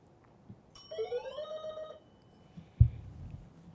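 A quiz bowl ring-in bell at an elementary school academic competition gives one ringing electronic tone with a rising harmonic chirp, lasting about a second, moderately loud over a quiet room, followed by a soft thump.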